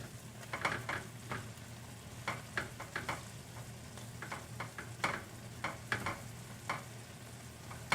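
Chicken pieces and peaches cook in a skillet with rosemary, giving a soft, steady sizzle broken by repeated light scrapes and clicks of stirring, quiet and close with no talk.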